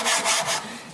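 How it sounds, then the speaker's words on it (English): Three quick scraping strokes as small cut-off masonite pieces are rubbed flat on a sanding board, close and distinct, then a fading rasp with no talk. "What you're sanding is the little pieces of masonite that you just cut off."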